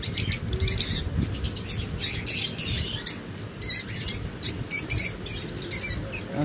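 Dense, busy chirping from many adult lovebirds, around eight to ten months old, kept in shop cages, with overlapping high tweets and calls running continuously over a steady low background rumble.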